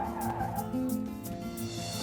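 A car brakes to a stop with a sustained skidding, tire-squealing screech that holds steady and loud for about two seconds over a continuous engine drone.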